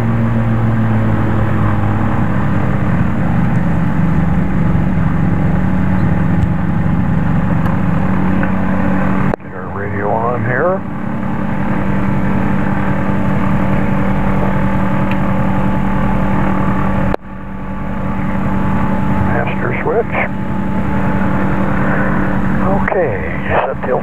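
Excalibur light aircraft engine running continuously through warm-up, a loud, steady droning hum that persists under intermittent talking and cockpit sounds, with level shifts as the mic moves.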